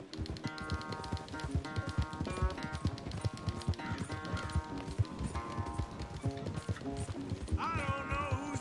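Galloping hooves of a horse racing in a video game, a rapid, steady clip-clop of hoofbeats close up, with brief character voices over the pounding rhythm.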